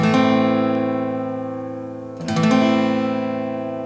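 A single sustained strummed acoustic guitar chord rings out, is struck again partway through, and keeps ringing clearly with no voices.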